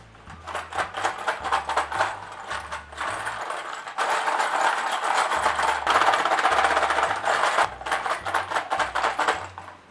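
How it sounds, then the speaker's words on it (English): Snail shells strung on a homemade forest-school shaker rattle and tinkle in quick, rhythmic bursts, shaken close by for several seconds with brief pauses between runs. "that lovely tinkling sound from the snail shells"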